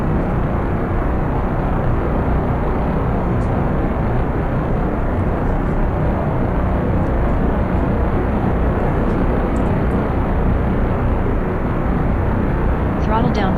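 The Emperor rocket engine roars through a full-duration test firing, a dense, continuous broadband thunder that holds steady and loud for the whole stretch, with a voice heard over it.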